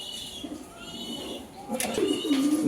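Foreign racing pigeons, a breeding pair kept with their chicks, coo softly indoors; low throaty murmurs rise into a clearer, rolling coo near the end, heard close over faint background noise.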